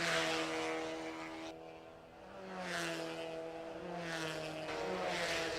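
Race cars on a circuit during a 10-lap race, engines droning steadily with rising and falling pitch as cars pass, loud and continuous with several overlapping engine tones.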